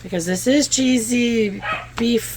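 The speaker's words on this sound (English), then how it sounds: "that's my dog barking in the background" A pet dog barks in the background of a home kitchen while someone talks over it, cooking a cheesy beef and cabbage skillet; the short barks come in quick bursts and sit partly under her steady speech.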